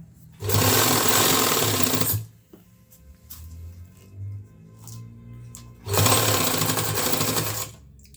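A sewing machine stitches a straight side seam on a school coat in two loud, continuous bursts of close mechanical whirring, separated by a quieter pause with faint handling noises.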